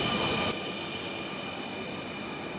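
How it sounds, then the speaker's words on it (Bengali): A train pulls away from a crowded station platform. A steady rolling rumble sits under thin, high wheel squeals, and the sound eases slightly after the first half-second. "এই যে ট্রেন চলে যাচ্ছে"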